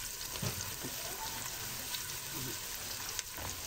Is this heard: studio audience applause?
no